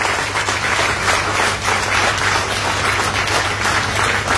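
A crowd applauds Manju Bhai with steady, dense clapping that stays loud and continuous throughout, no voices over it.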